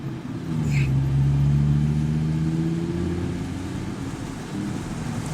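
A car pulling away on a race track, its engine note rising loudly and steadily close by, then easing off slightly toward the end.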